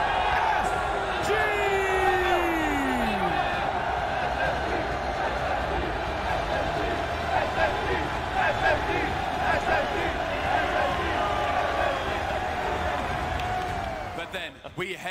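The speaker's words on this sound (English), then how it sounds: "You hear the roar from the crowd." A packed arena crowd roars and cheers steadily at a Rocket League esports championship match between Version 1 and SSG, a loud sustained wall of noise with whoops and a caster's voice over it, fading near the end.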